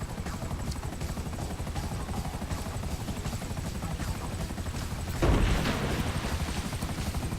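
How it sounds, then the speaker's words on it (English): Helicopter rotor in the video game GTA V, a steady continuous thrum throughout with a brief louder burst of noise near the end, no talk. "Now we gotta try and not sink my helicopter while going and picking it up."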